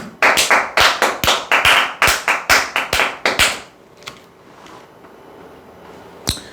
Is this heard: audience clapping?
yes